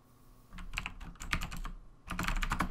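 Rapid clattering keystrokes on a computer keyboard come in two busy bursts, close and fairly loud, with a short pause between them during an online drawing game.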